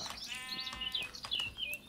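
Sheep bleat repeatedly in a farming game, several wavering calls overlapping in quick succession against light background game sounds.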